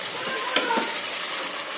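A steady sizzle of duck curry frying in a pan, with a spoon scraping and stirring a couple of times.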